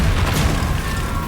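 Confringo fire spell blasting in the Hogwarts Legacy video game, a loud low booming burst rumbling steadily through the whole moment with no talk.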